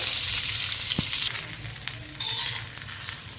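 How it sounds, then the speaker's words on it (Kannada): Steady, loud sizzling of onions frying in a hot pan, a continuous crackling hiss with a faint clink partway through. "ಈಗ ಆನಿಯನ್ನು ಒಂಚೂರು ಫ್ರೈ ಆಗಲಿ"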